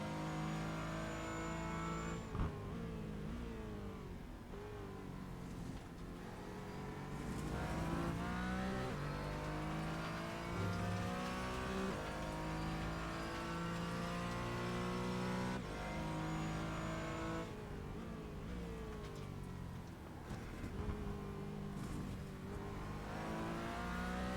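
A Porsche Cayman race car laps the Zolder circuit, engine note rising and falling through gear changes as it accelerates, loud and continuous from inside the car with no talk.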